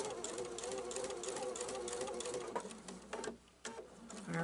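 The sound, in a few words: Pfaff sewing machine stitching a pillow seam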